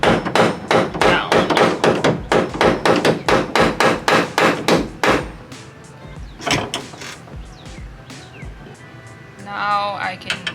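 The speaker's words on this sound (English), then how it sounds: "I'm going to pound this control arm down." A hammer pounds a car's suspension control arm down during a coilover install, about fifteen fast, loud metallic blows in a steady rhythm, then a few scattered knocks and clanks after a pause.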